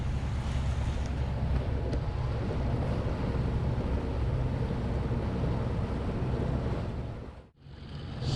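Boat motoring under engine power at sea, a steady low rumble mixed with wind and water wash, continuous and fairly loud, briefly dipping near the end.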